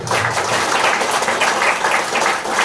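A church congregation claps together in thanks to God at a Sunday service, a loud, sustained burst of many hands with a loose rhythmic pulse and no voices on top.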